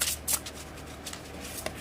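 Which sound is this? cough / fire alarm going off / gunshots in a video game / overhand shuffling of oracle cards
overhand shuffling of oracle cards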